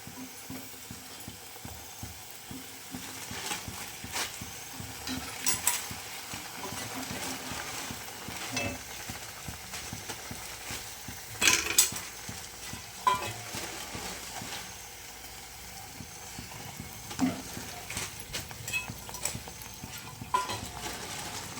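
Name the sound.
oil sizzling while cooking mutton gravy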